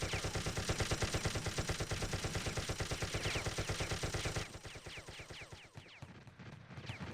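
LMG fire in a competitive multiplayer video game match rattles in a long, rapid, loud continuous burst, then drops to quieter scattered shots and distant gunfire.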